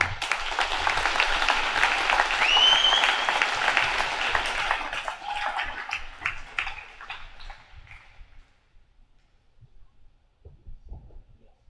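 An audience applauds a student athlete at a school signing-day event. The clapping is loud and dense at first, then thins out and fades to a few scattered claps.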